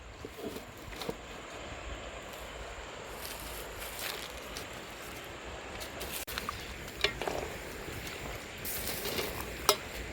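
Country chicken meat sizzling steadily in a pan as it cooks, a continuous quiet frying hiss with occasional small pops and stirring scrapes, no talking.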